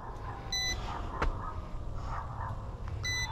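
A helicopter's cockpit warning beeper sounds in cold weather, giving two short, bright electronic beep bursts about two and a half seconds apart over a steady low engine rumble.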